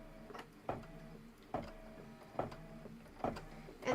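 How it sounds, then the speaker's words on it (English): An embroidery sewing machine stitches steadily, giving a rhythmic mechanical clatter with regular knocks about every 0.8 seconds over a constant motor hum. It sounds quiet and close, with no talking. "I'm going to hit start and just let it go ahead and do all the stitching."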